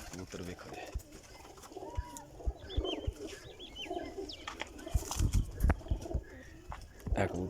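Teddy golden pigeons coo repeatedly in a loft, low burbling calls mixed with chirps and wing or cage knocks, while someone talks over them nearby.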